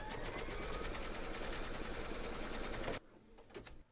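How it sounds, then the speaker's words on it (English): An embroidery machine stitches an in-the-hoop design for a teddy and unicorn bag, a steady close mechanical whir running about three seconds before stopping abruptly, followed by faint clicks and a short quieter burst. "then stitch round number 11"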